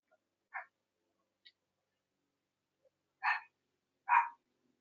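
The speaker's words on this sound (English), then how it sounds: "Sorry for the dogs." Dogs bark in short, separated bursts, a few faint yaps followed by two louder barks, somewhat distant, in an otherwise quiet indoor space with no talking.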